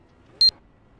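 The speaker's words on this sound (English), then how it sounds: "I will be turning that beep noise down" A single loud electronic beep during a NASCAR sim racing livestream, a short sharp tone that stutters into two quick pulses against near silence.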